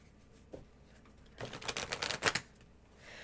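A quick ripple of tarot card shuffling, a dense burst of soft flicking snaps lasting about a second, close by and otherwise quiet.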